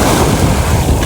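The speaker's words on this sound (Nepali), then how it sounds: "पानीको छल्का।" Sea water splashes and surges at a beach in Bahrain, a loud, rough wash of water mixed with gusty wind noise on the microphone, close and continuous.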